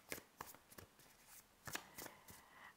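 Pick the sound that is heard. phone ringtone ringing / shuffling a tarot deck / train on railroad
shuffling a tarot deck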